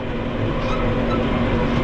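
A Case 115 C tractor pulling a heavy 24-disc harrow under throttle, its engine a steady, loud, continuous drone with a constant hum and no break throughout.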